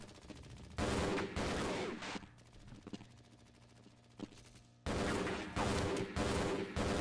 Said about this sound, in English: There's a lot of shooting noises.